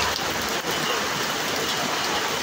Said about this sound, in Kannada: ನೋಡಿ ಮಳೆ ಬರ್ತಾ ಇದೆ,